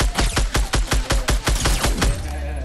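Rapid automatic gunfire in a first-person shooter video game, about a dozen sharp loud shots in a fast even burst, close and alone with no talk.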